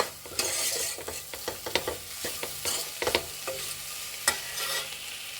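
Spices being dry-fried and stirred in a pan for Mangalore cucumber sambar, with repeated scraping strokes and a light crackle, close and moderately loud, no talking.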